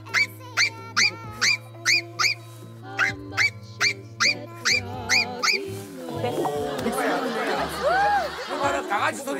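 A person vocally imitates a puppy with a rapid series of high, squeaky yips and whimpers in a steady rhythm, then laughter and chatter from several people on a TV variety show rise over the end.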